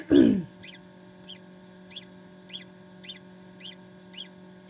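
A newly hatching chick peeping from inside its shell, eight short regular high peeps spaced about half a second apart over a steady background hum, after a louder opening thump.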